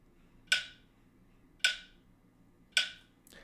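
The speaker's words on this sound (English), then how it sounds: "So beats 2 and 3 of each of those measures are getting muted." Metronome app sounding only the downbeats of each 3/4 bar, with beats two and three muted: three sharp, evenly spaced clicks about a second apart, with a fourth just starting at the end, heard alone over faint background hiss.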